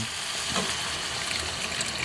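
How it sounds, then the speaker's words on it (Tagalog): Water pours into a chicken dish cooking in a pan, a continuous hissing, splashing wash at moderate volume, steady throughout with no talk. "So ang next step natin ay maglalagay tayo ng tubig"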